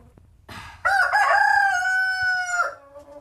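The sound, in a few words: roosters crowing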